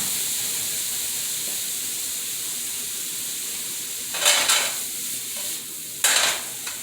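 Blackened alligator meat sautés in a pan with a constant close hiss and sizzle, broken near the end by two louder bursts of stirring and tossing; no one speaks.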